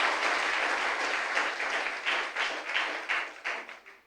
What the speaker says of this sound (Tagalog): Palakpak na malakas kay Lord.